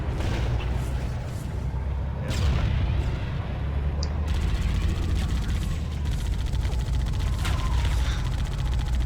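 Dense, sustained automatic gunfire from the machine gun in Halo: Combat Evolved, loud and continuous with heavy low-end rumble and scattered explosive booms over the full stretch, with a voice speaking over it.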